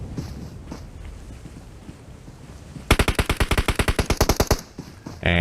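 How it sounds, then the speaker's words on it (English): Automatic gunfire in a celebrity showdown match of a video game rattles out as a rapid, loud burst of evenly spaced shots lasting nearly two seconds, set against a quieter windy background with scattered faint shots earlier. "Shots fired"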